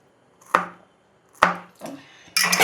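Green chillies being chopped on a board for a gram flour batter: three separate knife strikes with short ringing decays, then a rapid burst of chops, close and with no talk.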